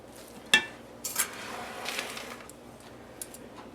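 A spoon clinks against a mixing bowl as ingredients, lemon among them, are stirred together: a sharp clack, then a few softer scraping strokes and light taps.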